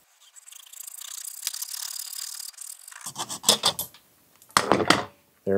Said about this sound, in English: We're just going to use a regular old hacksaw and lop this sumbitch off.